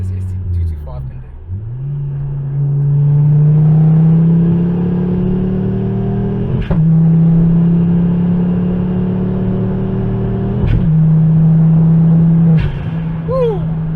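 A 2011 Ford Focus ST225 five-cylinder engine pulls hard from inside the car, a loud, steady drone climbing in pitch through the gears, broken by brief dips at each of a few gear changes, with people speaking over it.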